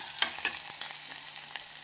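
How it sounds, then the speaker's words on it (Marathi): Black garam masala and turmeric sauté in a hot pan, a bright crackling sizzle with a few sharper spits and stirring scrapes, close and alone. "आणि अशा पद्धतीने छान असं परतून घेणार आहोत"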